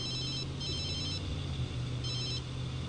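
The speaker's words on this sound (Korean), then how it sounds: "뭔 전화가 이렇게 와요?" A telephone rings in The Sims 3, a bright electronic trill in repeated bursts, three short ring bursts over a low steady background hum, with no one talking.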